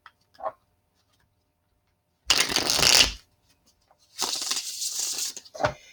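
Oracle cards from two Mystic Moons Twin Flame Messages decks are shuffled in two dense bursts of riffling, close and crisp, with a few faint taps and clicks between them and no talking.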